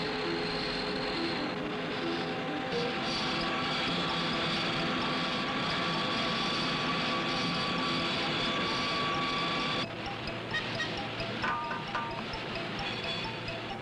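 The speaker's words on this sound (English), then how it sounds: "An induction furnace." An induction furnace in a rifle factory runs with a steady industrial hum and whine while shotgun magazine tubes are brazed to receivers, then shifts to a slightly different, sparser machine tone near the end.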